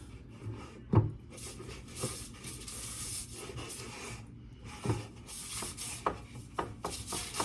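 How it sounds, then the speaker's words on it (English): Parchment paper slides in circles in a greased metal baking pan, scraping and rubbing in repeated, close swishing strokes, with a few soft knocks between them. "You can hear my parchment paper sliding around in circles in there."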